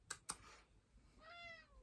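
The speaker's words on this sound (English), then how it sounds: "The cat has just walked in." A cat gives one rising-falling meow, quiet and close, after two sharp clicks in a quiet indoor room, with no talk.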